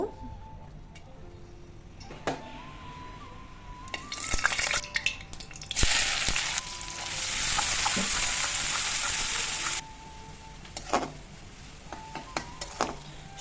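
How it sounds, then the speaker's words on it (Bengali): Dried chillies, garlic and onion frying in hot oil for tempering garden greens, a loud close sizzle that surges in the middle and settles back, with a few clinks of the utensil and no speech. "শুকনো মরিচ তারপরে রসুন পেঁয়াজ বেশ কিছুক্ষণ ভেজে ব্রাউন কালার করে নিলাম"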